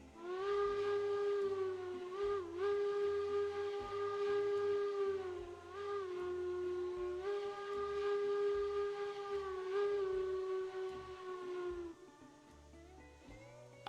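A steam locomotive whistle in the video game Railroads Online blows in long, wavering blasts over a rhythmic chuffing beat, then fades near the end.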